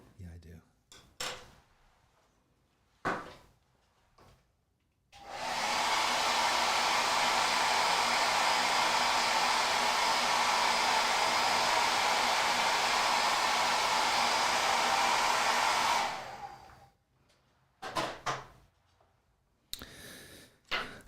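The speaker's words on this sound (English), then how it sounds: "Do you have your hairdryer at the ready?" A hair dryer blows onto an acrylic ink painting, a loud, steady whoosh for about eleven seconds, with quiet handling sounds and breathing before and after.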